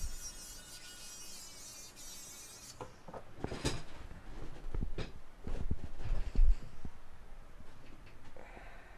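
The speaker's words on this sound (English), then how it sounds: "I'm going to take a stone. I'm just going to prep this solder joint area, taper it down." A dental lab stone grinds down and tapers the solder joint area on a fixed pontic appliance, with irregular rubbing and rasping bursts that grow louder midway, close-up with no talk.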